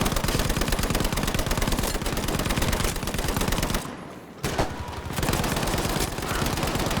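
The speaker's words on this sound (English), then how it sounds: "The Lewis gun is one of the light machine guns in the support kit" A Lewis light machine gun in Battlefield V fires long, loud, rapid bursts with a dense rattling cadence, pausing briefly in the middle before the fire resumes.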